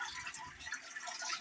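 Liquid sludge remover pours steadily into turtle tank water, a faint continuous trickle with no talking.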